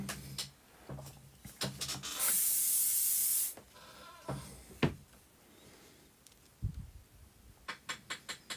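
A spray can hisses in one steady, loud burst of about a second, set among scattered taps and light handling noises from model-building work on a miniature French chateau.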